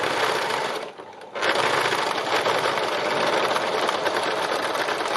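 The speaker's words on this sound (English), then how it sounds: "This is the beauty of free machine embroidery." A sewing machine stitches free machine embroidery through thick textured fabric, a steady close whirring hum that breaks off briefly and then runs on at full speed.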